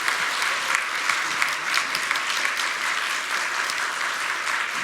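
A church congregation at the Centum Yeongan Church faith-training graduation applauds as certificates are handed out, a steady, even patter of many hands filling the space for the whole few seconds.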